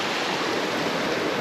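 A mountain creek flows beneath a trail bridge on Mount Elbert, Colorado, giving a steady, close, full rush of water with no talk over it.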